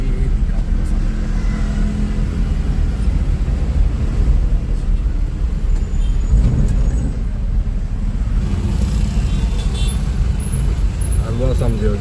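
Steady road traffic rumble heard from inside a moving vehicle on Bangalore streets, continuous engine and road noise with passing vehicles, under intermittent talk.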